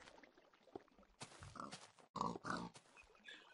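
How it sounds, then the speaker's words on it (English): Pigs in the video game Minecraft give a few close, short grunts and oinks, separated by brief gaps against an otherwise quiet background. "Warning, falling pigs during daytime."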